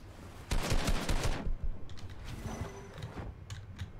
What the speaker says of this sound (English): He just shot at me